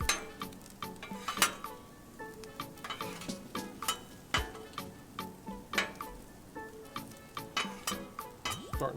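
Metal spatula scraping and clinking on a Blackstone griddle as carnitas pork and jalapenos for breakfast totchos are turned and tossed, a steady run of sharp clanks over a faint sizzle.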